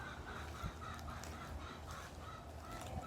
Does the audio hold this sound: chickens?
yes